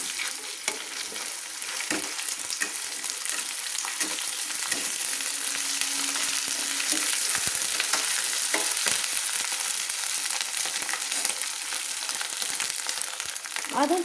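Ground ginger paste hitting softened golden onions in a hot pan, a loud continuous sizzle with light stirring scrapes running throughout, up close and without talk.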